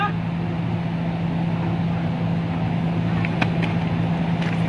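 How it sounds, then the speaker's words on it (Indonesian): A boat engine idling continuously at a river landing, a steady low droning hum held throughout with a few faint clicks and knocks near the end. "matikan nggak mesinnya?"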